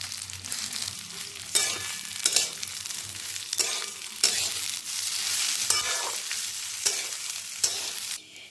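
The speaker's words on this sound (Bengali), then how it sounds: "আমি কড়াইয়ে দিয়ে দিয়েছি কিছুটা পরিমাণে ঘি গরম হয়ে গিয়েছে, তাই আমি চালগুলোকে এর মধ্যে দিয়ে দেব আর ভেজে নেব।" Gobindobhog rice fries in hot ghee in a wok, a bright close sizzle repeatedly broken by the scrape and rattle of stirring strokes, with brief pauses between bursts.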